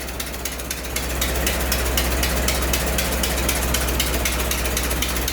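A 100-year-old 1924 Dodge engine runs up close with a rapid, even mechanical clatter over a low steady hum, getting slightly louder after the first second and staying constant.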